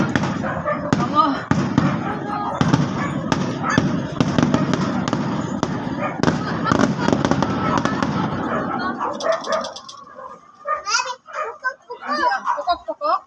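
Fireworks and firecrackers go off in a dense, rapid barrage of loud cracks and pops for several seconds, then the bursts stop and children's voices carry on alone.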